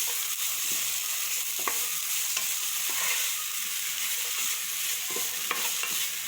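Onions sautéing with a little salt in a pan for chicken cutlet filling, a steady close sizzle broken by occasional spoon scrapes and stirring clicks.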